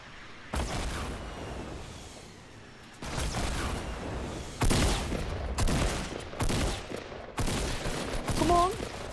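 Gunfire in Fortnite, with bursts of rapid shots arriving in several clusters of varying loudness, while players talk over the shooting.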